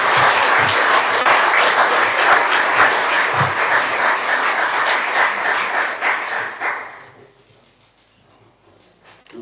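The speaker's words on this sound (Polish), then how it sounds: "Wielkie brawa jeszcze raz, szanowni państwo." Loud, dense clapping from attendees of a county council session in Poznań carries on for about seven seconds, then tapers off quickly into near silence.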